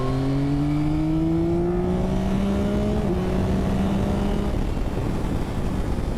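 A 2024 Yamaha XSR900 GP motorcycle with its tuned airbox pulls hard, the engine note rising steadily through the revs, then dropping briefly at a gear change before climbing again under loud wind rush.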